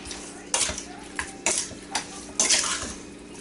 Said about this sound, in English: from here I use my dandy spoon and I'm going to mix everything together